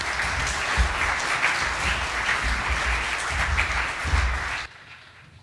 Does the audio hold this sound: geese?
no